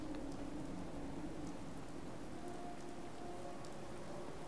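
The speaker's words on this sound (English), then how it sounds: "if it's raining" Steady rain falls in the Fallout 4 game world, a dense continuous hiss of drops with faint low rumbling underneath and no voices.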